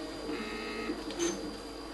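A 3D printer's stepper motors whine with steady tonal hum as the print head travels to a set point, with brief pitch shifts as it moves, close and fairly quiet.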